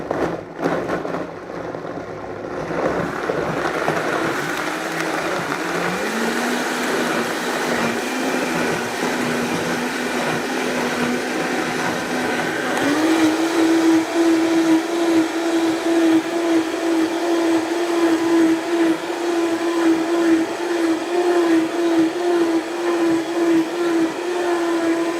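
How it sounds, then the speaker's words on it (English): A kitchen blender purees vegetables until smooth, its motor droning steadily with a whirring hum that steps up in pitch partway through and keeps running loud and unbroken. "So I'm just going to blend this up"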